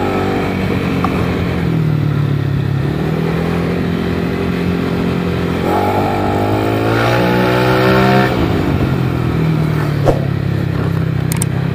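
A Yamaha Lexi 155cc scooter with a bored-up engine, set to standard throttle, revs steadily nearby, its pitch climbing and falling through repeated throttle blips over a constant engine drone, with no talking.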